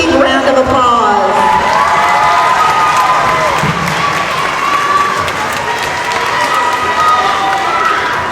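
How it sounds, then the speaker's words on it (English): A crowd at an elementary school award ceremony applauds and cheers loudly and continuously, with children's shouts and a few whoops mixed into the dense clapping. "Big round of applause."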